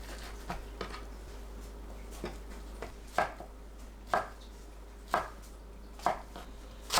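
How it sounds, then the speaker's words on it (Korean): A knife chopping fish cake into large pieces on a cutting board, several distinct, evenly spaced thuds close up in a quiet kitchen. "어묵을 큼직하게 썰어주세요"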